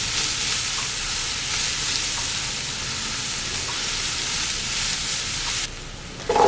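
Onions and garlic fry in a pot for Trini corn soup, giving a steady bright sizzle with faint stirring, and the hiss drops briefly before swelling again.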